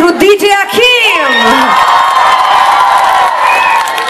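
Concert crowd at an outdoor park show cheering and whooping loudly over sustained applause, steady and close, with an amplified voice calling out over the noise at the start.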